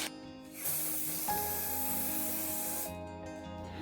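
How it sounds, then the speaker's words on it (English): A spray can hisses continuously for a couple of seconds onto a Nutella jar, close and fairly quiet, starting and stopping cleanly with no talk. "we're gonna be spray painting it"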